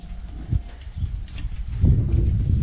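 Horse hooves clip-clopping on the ground during a gathering of horses and a mare for training, several uneven close footfalls over a low background rumble.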